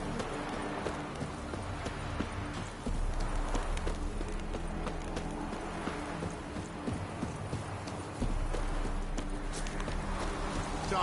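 Horse hooves clip-clopping in The Witcher 3: Wild Hunt, a steady walking rhythm of repeated hoof strikes with a soft ambient bed and a louder stretch near the middle and end.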